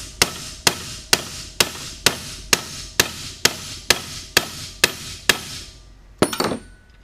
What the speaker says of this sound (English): Then you take a hammer and you just pound it.